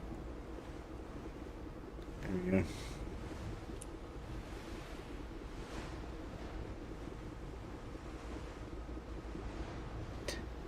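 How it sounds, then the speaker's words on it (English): Rolling ocean waves rock a boat in The Last Caretaker, a steady low wash of surf and wind with a brief thump near the middle, while a voice speaks once, briefly. "These waves are just like big."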